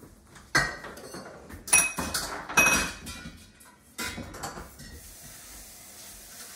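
A metal pan is scrubbed and knocked, with a few clanks and clinks in quick bursts, close by and moderately loud.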